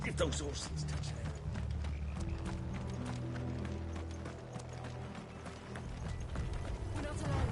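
Horses gallop in the Final Fantasy XVI video game, a dense run of hoof clip-clops and clattering over game music, with a steady rhythm at moderate loudness throughout.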